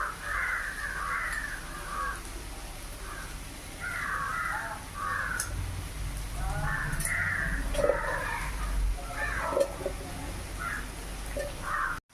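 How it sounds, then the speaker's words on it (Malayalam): Crows cawing outdoors near a home, several birds calling in bursts of rough caws, moderately close, over a low background rumble. "കാക്കകളെ സൗണ്ട് അതിലേറെ"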